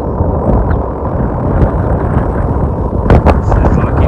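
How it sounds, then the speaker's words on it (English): Steady wind in Theodore Roosevelt National Park's Southern Unit buffets the microphone with continuous low rumbling gusts, swelling stronger near the end, with no talk heard. "It's a little windy today."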